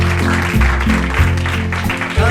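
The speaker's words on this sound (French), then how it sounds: "Applaudissons le Seigneur." A church congregation applauding together, steady clapping over sustained low musical tones, with no talk.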